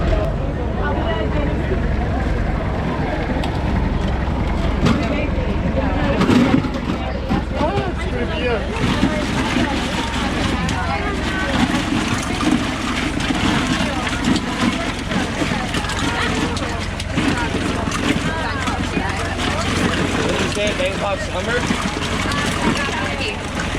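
A tour boat carrying passengers around islands off Krabi, Thailand churns along with a steady engine drone and wind buffeting the microphone, while people chat and shout over the noise throughout.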